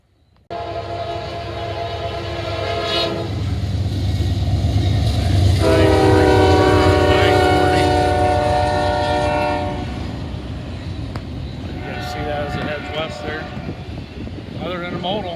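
A freight train rumbles past close by in Oak Harbor, Ohio, its horn blaring in long blasts over the steady roar and clatter of rolling cars.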